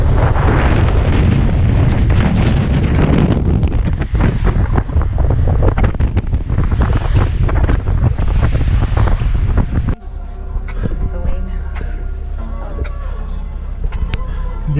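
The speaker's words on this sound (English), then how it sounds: "This is so windy!" Strong wind buffets the microphone on a cold, rainy, stormy day as a loud, continuous roaring rumble, easing to a lower, steadier gusting near the end.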